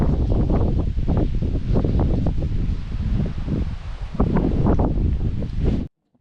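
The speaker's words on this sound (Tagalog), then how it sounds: "Napakalakas ng hangin dito." Strong wind on a farm in Canada buffeting the microphone in loud, rumbling gusts, with rustling in between, cutting off abruptly at the end.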